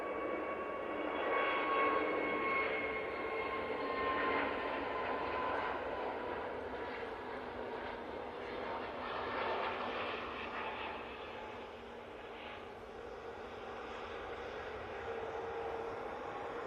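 An easyJet airliner rolls for takeoff at Manchester Airport, a distant, steady jet roar that swells gently and fades, heard faint and alone.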